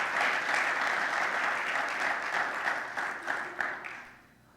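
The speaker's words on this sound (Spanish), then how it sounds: "¿Puedes darle un aplauso de alabanza a Él?" A church congregation claps in praise, a dense and steady burst of applause that fills the room, then quickly fades out at the end.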